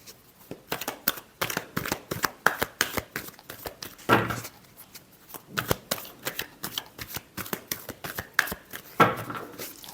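Tarot cards being shuffled, a long run of quick crisp riffling bursts in an irregular rhythm, close and moderately loud, with no voices.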